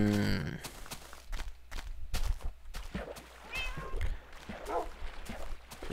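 A cat meows in a hardcore survival run of a Minecraft-style game, a few short in-game meows mixed with footsteps and clicks while someone talks over the gameplay.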